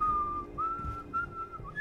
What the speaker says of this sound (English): Codsworth be whistling.